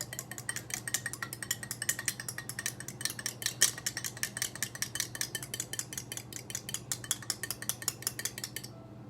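Whisk or fork rapidly beating eggs in a bowl for blueberry muffin batter, a steady fast run of close metallic clicks and taps against the bowl for about nine seconds, with a low hum underneath.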